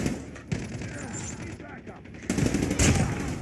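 Video game gunfire from Call of Duty, with several sharp shot bursts and a louder rattling volley near the end over a busy game background.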